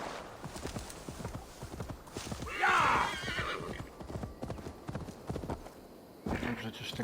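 Horse in Assassin's Creed Valhalla, its hooves clip-clopping steadily at a gallop throughout, with a loud whinny near the middle; someone talks over it.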